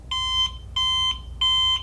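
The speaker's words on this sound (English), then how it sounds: "You should hear 3 beeps" An eChronos electronic lock gives three evenly spaced high beeps when woken, crisp and close with faint background hiss.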